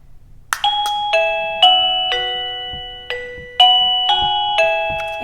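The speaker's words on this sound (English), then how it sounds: "So I use the doorbell for many different things, mainly for transitions." A wireless classroom doorbell plays a multi-note electronic chime melody, about ten bright ringing tones in a steady sequence, each decaying into the next, loud and close with no talking.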